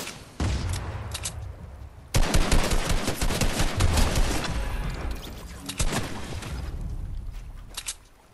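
Rapid automatic gunfire in the Fortnite video game, loud dense bursts starting after a short pause and continuing in sustained volleys with brief gaps, alone without talk.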